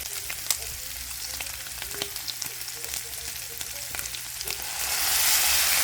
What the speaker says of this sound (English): And now I'm in the midst of cooking the sausage.